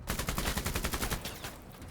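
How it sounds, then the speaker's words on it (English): Rapid automatic fire in MENACE, a sci-fi tactics game, rattles out as a fast steady string of shots before trailing off, moderately loud and alone. "firing in the smoke is completely pointless"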